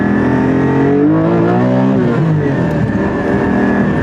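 A Porsche Cayman GT4 engine pulls hard and loud from inside the cabin, its steady rising roar running through a short burst of full acceleration with no one talking.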